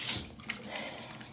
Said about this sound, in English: I can hear the steamer already warming up. It's like it's a bubble. It's like it's boiling water